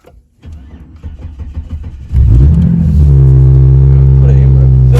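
A car engine cranks over a few sputtering beats, catches with a loud roar, then settles into a steady, strong idle close by.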